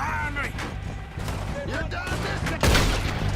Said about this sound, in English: let's get the carbine repeater out there